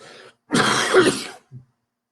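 A single close throat-clearing cough, loud and rough, followed by a short faint grunt, then silence.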